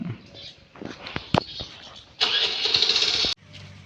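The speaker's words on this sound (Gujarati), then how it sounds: "ટ્રેક્ટર લઈને અમે આ ટોલી છોડવા જઈએ." A tractor engine starts with a loud, steady churning burst lasting about a second that cuts off abruptly, preceded by a few clicks and knocks and followed by a quieter low rumble.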